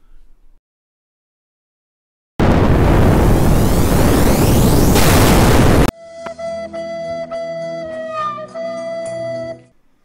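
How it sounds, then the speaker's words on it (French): A big explosion sound effect bursts in as a sustained loud roaring blast that cuts off abruptly, followed by a ringing, tonal musical tail that fades out. "est-ce que j'ai un peu abusé sur l'effet de l'explosion?"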